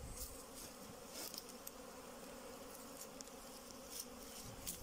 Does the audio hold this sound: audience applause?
no